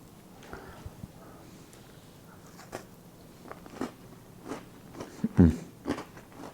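Crunchy no-bake hedgehog slice of biscuits, coconut, chocolate and a little rum is bitten into, giving a few soft, scattered crunches that grow sharper and louder toward the end over a quiet room.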